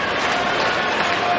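Tennis crowd at Rod Laver Arena applauding, a steady, dense wash of clapping and cheering throughout, fairly loud and continuous.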